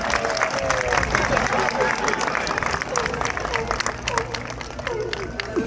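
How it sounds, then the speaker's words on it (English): Zoo audience applauding sea lions after a demonstration at Blackpool Zoo, a steady outdoor patter of many hands with crowd noise and some voices mixed in, continuing throughout. "Can we give our sea lions a big round of applause?"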